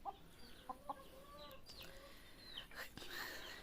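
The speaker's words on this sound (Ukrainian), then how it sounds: "Квочка з курчатами. Ні, квочка з каченятами." A broody hen in a village yard clucks softly near her ducklings, giving a few short clucks and chirpy calls with other fowl faintly around, quiet and close.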